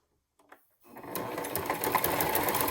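After a couple of faint handling taps, a sewing machine starts and runs steadily, stitching through a folded leather edge on a crossbody bag with a close, continuous mechanical whirr.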